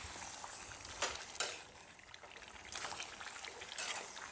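Potato pieces frying in oil and being stirred in a pan, a soft hiss of sizzling broken by a few brief scrapes and clinks, quiet and close.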